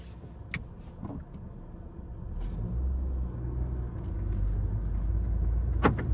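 A Volkswagen Golf VII BlueMotion 150 hp on a road test, heard from inside as a steady low engine and road rumble that builds as the car gets under way, with a few faint clicks from the cabin.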